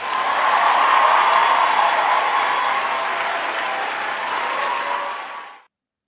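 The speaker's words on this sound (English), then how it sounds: "Let me give her a round of applause on that." Sustained crowd applause, loud and dense, holding steady for several seconds before fading out abruptly.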